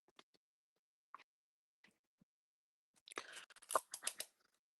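Scissors cutting a piece of tape in a quiet craft setting, a few faint isolated snips and ticks followed by a short cluster of crisp louder snipping and crinkling near the end.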